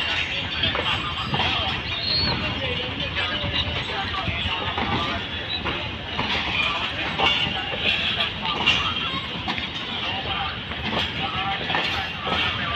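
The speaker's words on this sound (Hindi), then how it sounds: "जी ये 8 डाउन तेजगाम एक्सप्रेस लग रही है।" The 8 Down Tezgam Express, hauled by locomotive GEU-40-9017, arrives at Karachi Cantt railway station with a continuous rumbling roll and clattering of wagons, moderately near, under ongoing station noise.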